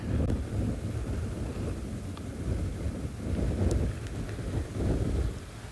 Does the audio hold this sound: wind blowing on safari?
yes